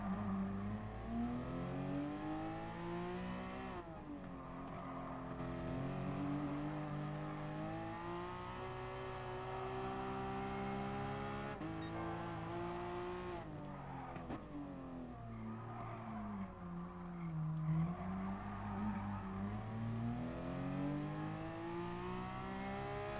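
In Gran Turismo Sport, a race car's engine revs up and down through corners, pitch climbing under acceleration and dropping on braking, with faint tire squeal and a steady, moderately quiet drone throughout.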